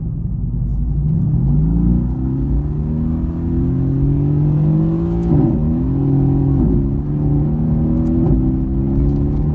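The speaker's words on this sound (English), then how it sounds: "when you select the race mode, the exhaust system, it's automatically open. So let's hear the sound and let's feel the power." A Mercedes-AMG GT S in race mode, its exhaust open, revs loudly nearby: a deep, throbbing engine note climbs and holds, then dips and swells again in several pulls over a constant low rumble.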